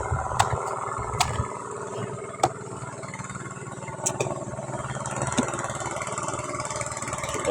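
A gas-powered grass cutter runs steadily in a rice paddy field, its engine humming continuously at mid distance with a few sharp clicks and knocks over the drone; no talking.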